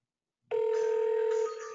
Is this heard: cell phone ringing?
yes